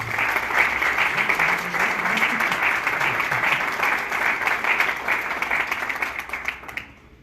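A large audience at a book presentation claps steadily in sustained, dense applause for several seconds, then it tapers off and stops.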